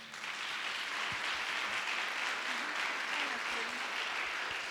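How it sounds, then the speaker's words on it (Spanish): A church congregation at a Sunday service applauds in a steady, unbroken wash of clapping, with faint voices murmuring underneath throughout. "Dale un fuerte aplauso al Señor"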